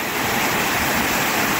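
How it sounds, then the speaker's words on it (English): Perry Creek Falls pours down in a steady, loud roar of rushing water close by, a dense continuous wash with no breaks and no voices. "Well, we made it to Perry Creek Falls."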